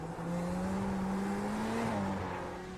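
A Corvette Z06 GT3 race car on the Daytona track in iRacing, its engine holding a steady, loud drone with a slight pitch rise and dip, continuous and close throughout.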